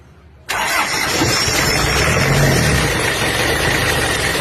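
A motorcycle engine with a worn, seized cylinder liner and piston rings cranks and catches abruptly, then settles into a loud, steady, rough idle that runs without pause to the end.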